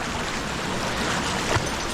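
A calm river in a wild valley, flowing in a steady, even wash of water noise, close and continuous, with a faint knock near the end and no voices.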